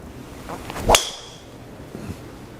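A single sharp, bright crack of a Callaway Mavrik Sub Zero driver striking a golf ball, followed by a faint lower knock about a second later, with no talking.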